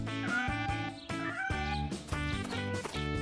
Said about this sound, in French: Waouh, des chatons!